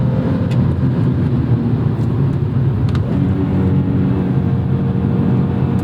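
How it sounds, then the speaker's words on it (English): A 2001 BMW M3 E46 with its inline-six engine drives along, a steady smooth drone and road rumble lasting throughout, held at an even cruising pitch with no voices. "The engine's silky smooth,"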